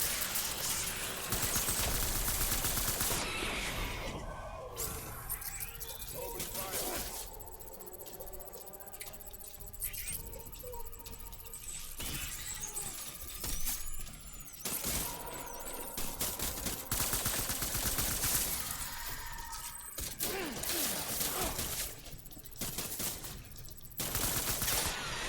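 Sniper gunfire in Death Stranding comes as dense, loud bursts of shots and crackling impacts that recur throughout, filling the soundscape with heavy battle noise and no talking.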